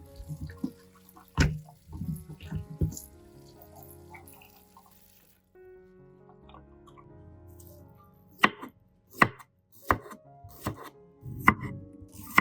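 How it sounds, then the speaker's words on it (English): A knife chops shallots sharply on a cutting board in uneven bursts, with pauses and a faint trickle of water in the background. "After slicing the onions,"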